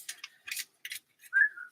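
A person whistles one short, thin, clear note near the end, preceded by scattered soft clicks and rustles in an otherwise quiet room.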